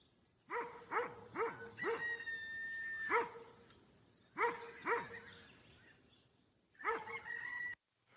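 Farm-animal dog bark effect: several sharp barks in quick bursts, mixed with rooster-like crowing and clucking fowl calls, loud and close with short gaps between groups.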